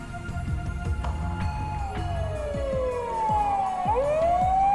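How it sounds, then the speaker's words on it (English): A police siren in a video game, Steins;Gate, wails loudly nearby at night, its pitch sliding down and then sweeping back up, over rhythmic thumping and a low rumbling background. "a shrill siren shatters the night"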